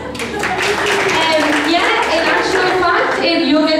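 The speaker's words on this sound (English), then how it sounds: "So a big round of applause." A tour group on a Guinness tasting in Dublin gives a round of applause, scattered clapping mixed with chatter and voices nearby, loud and lively in a busy indoor space.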